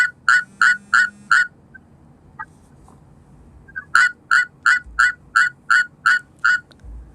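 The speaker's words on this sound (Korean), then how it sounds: "수원 청개구리의 육성 듣고 계십니다." A Suwon treefrog gives loud, evenly spaced rasping calls in two bursts, four or five notes and then about nine, with a brief gap between them and nothing else heard.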